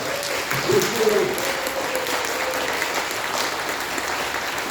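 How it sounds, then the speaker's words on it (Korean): Audience applause fills a hall during a peace ambassador appointment seminar, a steady wash of clapping for the whole stretch with a brief voice mixed in near the start. "박수 한번 부탁드립니다."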